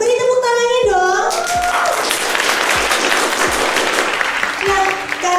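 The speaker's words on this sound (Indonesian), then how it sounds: "Beri tepuk tangannya dong." Guests at a lip cream series launch in a Surabaya hotel ballroom break into applause after a speaking voice, a full crowd clapping steadily for several seconds, with a voice returning at the end.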